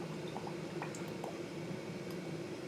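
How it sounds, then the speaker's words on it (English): Hot sauce is poured into a pot of butter melting over medium heat, giving a quiet, continuous liquid bubbling and sizzling with a few soft drips and squishes. "add the hot sauce. I'm gonna add a generous amount here."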